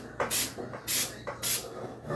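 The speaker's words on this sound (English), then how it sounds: "we want to spray it with some baking spray" Baking spray misted onto a non-stick baking pan in three short hissing bursts, close and crisp, with brief pauses between.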